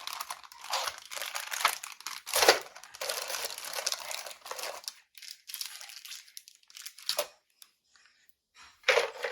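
A plastic bag crinkles and rustles in close bursts as a freshly sprayed white model car part for an AMT Ghostbusters Ecto-1A 1959 Cadillac kit is unpacked, with short pauses between handlings.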